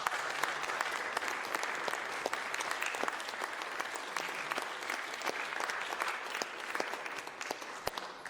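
Sustained audience applause at a student media showcase honoring graduating audio-video production students, dense and steady clapping from a crowd for the full stretch with no talk over it.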